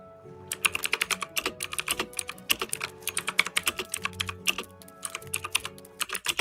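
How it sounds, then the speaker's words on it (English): Loud, rapid clacking of computer keyboard keys being typed, dense irregular bursts of sharp clicks close up, continuing steadily with brief pauses and no speech. "I like how Aidan's loud typing sounds like Zane's crab walking"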